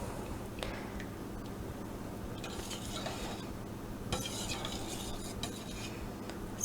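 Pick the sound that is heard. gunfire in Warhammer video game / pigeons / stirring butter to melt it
stirring butter to melt it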